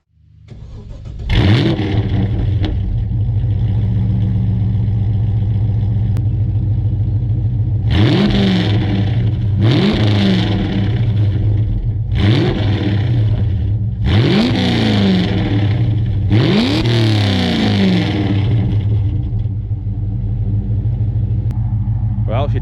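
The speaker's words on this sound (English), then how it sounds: "We'll give it a couple revs and I'll chuck you guys on the rear bar and give it a couple of pulls so you can actually hear this car properly." A Holden VY SS Commodore with a manual gearbox and 400,000 km idles with a steady deep rumble, then its exhaust barks through five sharp revs in succession, loud and close.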